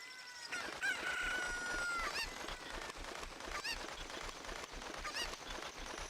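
Cuccos cluck and crow in The Legend of Zelda: Ocarina of Time, a rooster-like cock-a-doodle-doo call rising over a steady game soundtrack, with several shorter clucks and squawks recurring throughout.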